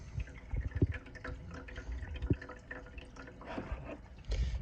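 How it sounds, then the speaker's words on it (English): Water drains and drips out of a Tidal 110 aquarium filter that is being emptied, giving irregular close drips and trickles over a soft, steady wash of running liquid. "We're just gonna get all that water out. So it doesn't drip on the floor here. Takes a minute for it to drain."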